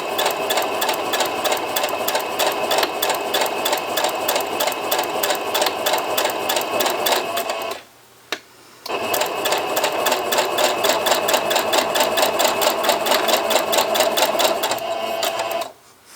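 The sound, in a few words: sewing machine chain piecing quilt pieces with a quarter-inch foot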